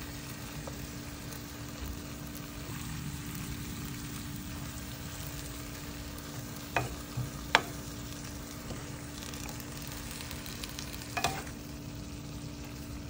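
Mixed vegetables frying in a pan, a steady soft sizzle throughout with a few faint clinks and stirring knocks scattered over it, no talk.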